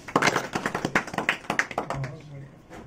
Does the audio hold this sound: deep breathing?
no